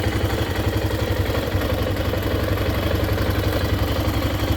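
An Aprilia Pegaso motorcycle engine idling after a revival, its ECU having relearned so the revs no longer hang, giving a steady, low, rapid thumping pulse that stays even and close throughout.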